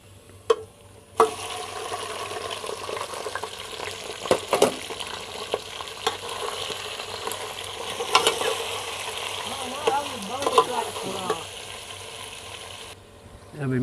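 Meat frying in a pot for chicken pulao gives a loud, continuous close sizzle with spoon scrapes and clinks throughout, and a voice briefly speaking in the latter part.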